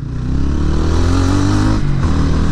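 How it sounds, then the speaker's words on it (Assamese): A motorcycle rides through busy city traffic, its engine note droning steadily and loudly up close with slight revving shifts throughout, alone without voices. "বহুদিন পিছত চিটিত বাইক চলাই আছোঁ"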